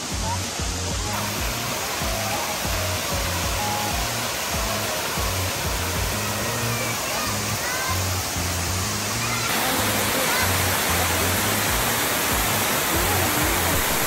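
Waterfall in New Corella, Davao del Norte, a loud, steady broadband roar of falling water that stays constant throughout, with faint voices beneath it.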